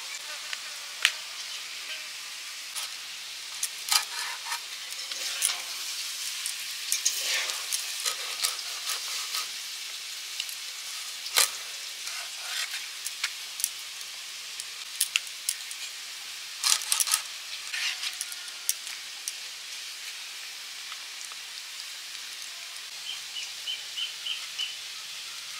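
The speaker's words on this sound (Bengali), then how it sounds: "আমি এই কচু ভাজাটা নেড়ে নেড়ে আপাতত করছি" Long strips of taro fry in a pan and are stirred, a soft steady sizzle broken by frequent clinks and scrapes of a spatula, with birds chirping faintly outdoors.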